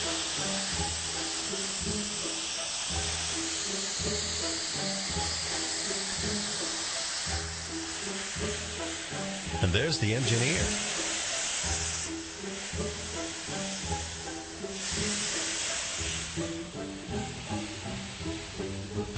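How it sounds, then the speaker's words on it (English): A steam locomotive hisses loudly and continuously, a broad rushing steam noise over a rhythmic chuffing pulse, with a brief voice speaking partway through. "All that hissing from the steam sure is loud."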